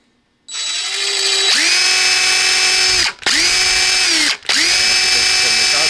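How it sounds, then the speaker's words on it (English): A power drill whirs loudly and steadily close by, starting up, then briefly stopping and restarting twice in quick succession. "the microphone picks up the drill that's right in front of it"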